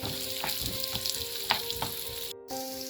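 Cashews, raisins and almond flakes sizzle and crackle in a pan as they fry and are stirred, with steady close popping and scraping that briefly drops out.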